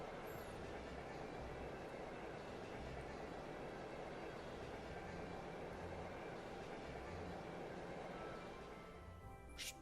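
Train ride ambience from the video game Trails of Cold Steel, a steady low rumble of a rolling railcar with faint rhythmic rattling, continuous and even, with a brief sharp sound at the very end.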